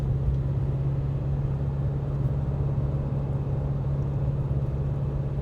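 A steady, close engine drone and low rumble inside an Isuzu D-Max V-Cross pickup pulling away on a UK national speed limit road, continuous and even throughout with no talking.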